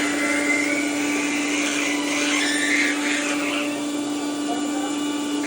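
A mixer grinder runs continuously with a steady, loud motor whine and buzzing hum that holds through the whole stretch, while people talk faintly underneath.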